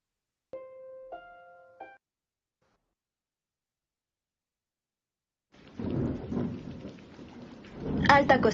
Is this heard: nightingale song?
no